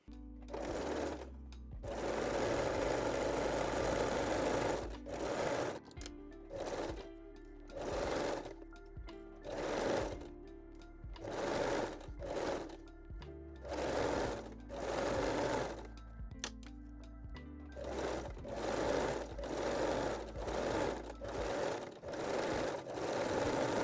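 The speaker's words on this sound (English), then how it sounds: "Set your machine to zigzag stitch and finish the waistline." A sewing machine zigzag stitches elastic onto a panty waistline, running in steady close bursts with short pauses between runs, loud and alone.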